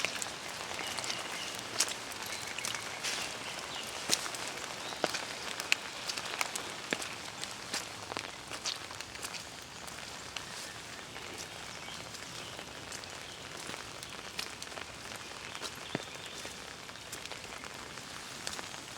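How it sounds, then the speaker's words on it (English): Steady rain falls on an outdoor surface, a dense continuous patter of drops across the whole stretch with scattered sharper drips, fairly close and even in level, with no voices. "I love the sound of the rain."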